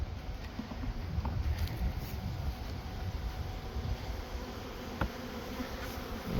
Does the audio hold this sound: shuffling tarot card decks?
no